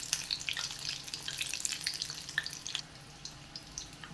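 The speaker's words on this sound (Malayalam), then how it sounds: "ലോ ഫ്ലെയിമിൽ നമുക്കിത് നല്ലതുപോലെ വറുത്ത് മുരിയിച്ചെടുക്കാം." Eggs fry in oil over a low flame for an evening egg snack, giving a soft, steady sizzle with faint scattered pops and crackles close by.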